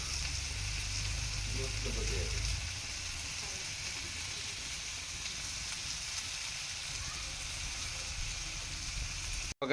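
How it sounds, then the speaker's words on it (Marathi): Digvadi wild greens steaming in a pot, giving a steady soft sizzle and hiss throughout, with a low rumble at the start that fades after a few seconds, and nobody speaking. "तर हे आपण आता थोड्या बाफून घेणार आहोत"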